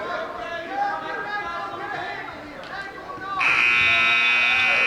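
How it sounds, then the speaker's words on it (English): A loud, steady electronic buzzer sounds at a varsity high school wrestling match to end the second period, starting partway through and holding to the end over gym crowd noise and chatter. "And there's the buzzer to finish the second period of action."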